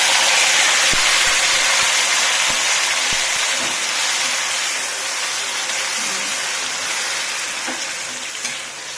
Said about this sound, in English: Now I'm going to add the marinated chicken.